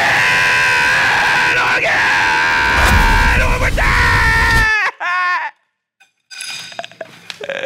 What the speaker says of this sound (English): That screaming was tough.